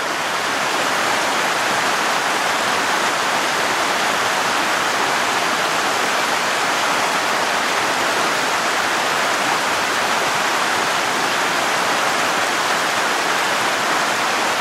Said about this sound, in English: Sure is a real pretty waterfall way up there.